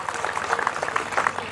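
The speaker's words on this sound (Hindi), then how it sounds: "एक बार जोरदार ताली बजाओ पीछे के लोग" Audience clapping at a live Hindi poetry recital, a dense crackle of many hands that stays steady and moderately loud throughout the short stretch.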